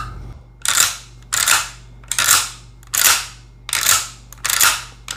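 Mossberg 500 pump-action shotgun being cycled, giving six sharp mechanical clacks at a steady rhythm about one per second, close and loud with no talking.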